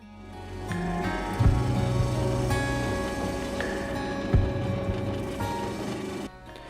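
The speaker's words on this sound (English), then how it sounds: "So you use the left side of the wheel to cut the right side of the indent" Rotary wheel engraving an indent into glass, a continuous whirring grind with changing tone and two sharp contact bursts, stopping abruptly near the end.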